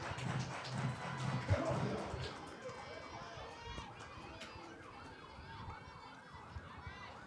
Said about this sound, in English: As sirens go off in the distance